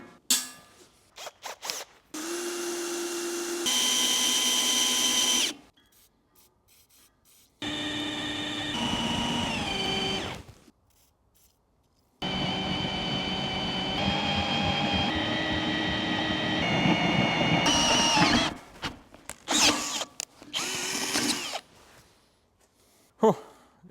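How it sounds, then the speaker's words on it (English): A power drill with a 12mm metal bit whines and grinds through metal in several long bursts, stopping and starting with short pauses between runs. "So I bought 12mm metal drill bit and let's drill a hole in here."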